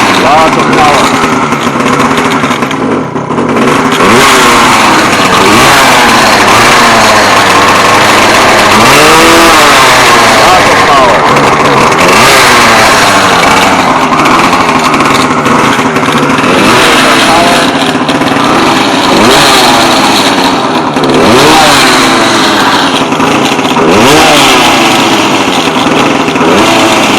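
A pocketbike engine fitted with an extended intake, a 19mm Dellorto carburetor and a Black Bandit box revs loud and close at full throttle, its high-pitched buzz rising and falling continuously.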